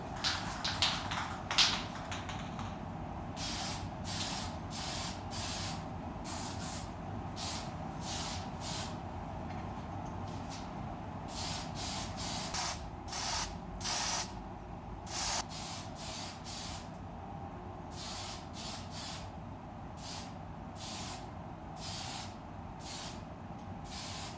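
Spray paint hisses from an aerosol can in a run of short, repeated bursts as a very light coat goes onto a wooden belt buckle, held about a foot away, with a steady low hum in the background.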